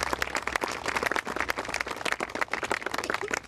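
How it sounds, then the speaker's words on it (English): Audience applause at a 2005 cemetery reenactment in Wallingford, a moderately quiet, continuous patter of many hands clapping from a small crowd. "Give Bill a nice round of applause."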